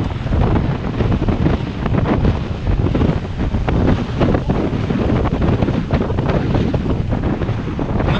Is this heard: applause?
no